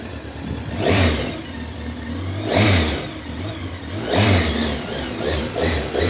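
A 1998 Honda CB 1300 Super Four motorcycle engine idles close by and is revved three times in turn, each burst swelling and falling back to a steady rumble.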